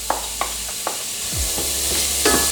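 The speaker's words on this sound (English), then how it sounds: "I can hear it sizzling" Carrots, ginger, garlic, lime and onions sizzling in a hot pan, a close, steady hiss with a few clicks and scrapes of stirring.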